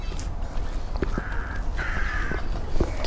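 Crows cawing outdoors during an open-air falafel meal in Israel, several harsh, drawn-out caws with a few shorter calls at moderate distance over steady background ambience, with no speech.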